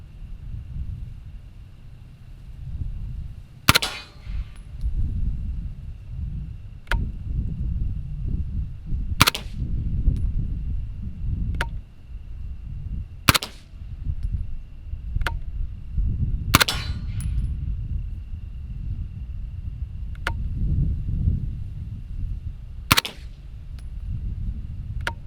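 Suppressed gunshots fired at a target outdoors, roughly a dozen sharp cracks spaced irregularly several seconds apart over steady wind rumble against the microphone.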